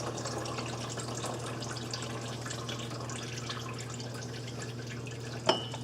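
Coolant drips and splatters steadily from the engine while a Ford Escape water pump is lifted out, with continuous wet dribbling and a single sharper tap near the end, all close up and with no talking.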